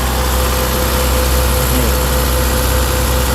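An Isuzu MU-X engine runs loud and steady close up while being revved, a constant low droning rumble with little change in pitch, no voices; the air-conditioning compressor has a knocking fault.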